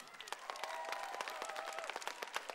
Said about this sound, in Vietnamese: xin một tràng pháo tay nữa cho biên đạo Ryan Tang